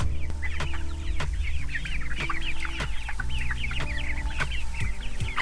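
Free-range chickens in a new pasture cluck and chatter continuously from close by, with scattered sharper calls and a steady low hum underneath.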